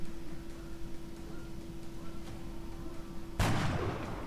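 A steady low hum and background noise, then a single sharp gunshot from a reaction shot in XCOM: Enemy Unknown cracks loudly near the end and lingers with a ringing tail.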